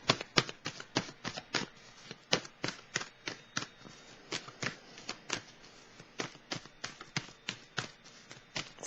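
Tarot cards being shuffled close up, a quick run of crisp riffling snaps and flutters in an uneven rhythm, fairly quiet with no talking over them.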